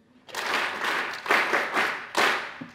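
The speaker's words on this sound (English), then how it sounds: "Clap for yourselves." An audience claps in several short bursts, each swelling and fading, moderately close and loud, with brief pauses between surges.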